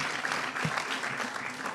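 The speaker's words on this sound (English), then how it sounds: "Our legislature deserves a big round of applause collectively for all they've done this year." Applause from a legislative audience at a California housing initiative event, a steady wash of clapping running throughout at moderate level with no speech over it.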